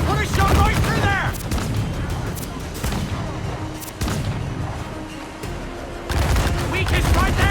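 Ship cannons fire in Assassin's Creed 4 Black Flag during a naval battle with a galleon, heavy booms and broadband blasts repeating through the clip amid crashing debris and shouting crew.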